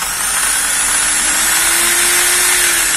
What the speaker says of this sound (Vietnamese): Rồi bật qua chế độ khoan nha anh em